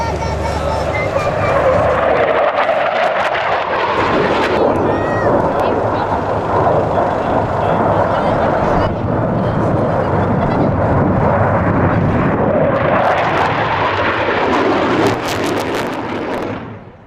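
An F-111C jet flies a display at the Williamtown Air Show in September 2010, producing a loud, sustained roar that swells and shifts as it passes, with a commentator's voice over the noise.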